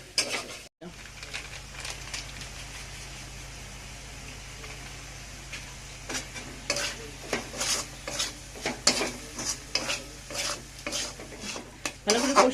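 Spices stirred and fried in a pan for ghugni, a low sizzle under repeated metal scrapes and clinks of the spoon against the pan, growing busier and louder toward the end, with no talk.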